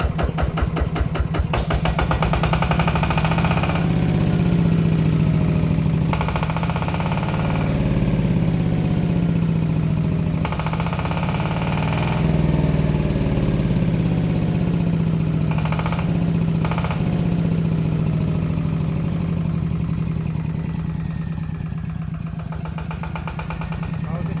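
A ZT180DI PLUS diesel tractor engine runs steadily with a low throbbing idle, rising into a few louder revs, with someone talking over it close by.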